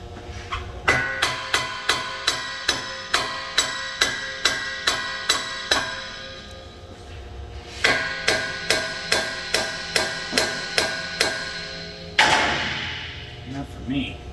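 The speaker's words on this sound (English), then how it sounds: "we're gonna take a hammer. We're just gonna give her a few love taps on both sides" A hammer strikes the rusted suspension of a 2017 Jeep Wrangler 3.6L in two fast runs of sharp metallic blows, about a dozen each in steady rhythm, close and loud, then a final clanking scrape.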